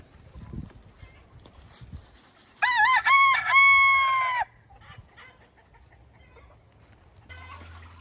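A rooster crows loudly once, a long rising-and-falling cock-a-doodle-doo, amid quiet clucking and scattered farmyard noises before and after.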